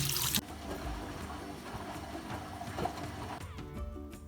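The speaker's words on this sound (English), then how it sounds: "So I'm rinsing it out with cold water now" Cold water running over a dyed fabric banner being rinsed, a soft continuous trickle and splash nearby that starts after a brief loud gush and fades near the end.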